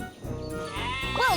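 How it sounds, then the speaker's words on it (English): Cartoon sheep bleating in a kids' train game, one short close bleat at the end after a brief stretch of music and effects. "Sheep have wandered onto the tracks."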